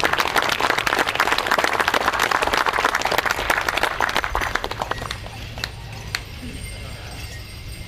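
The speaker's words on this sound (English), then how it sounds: "Let's give them a big round of applause." Dense, loud applause from an audience at a ceremony honoring a chief thins out over the last few seconds, leaving a few scattered individual claps trailing off amid low room noise.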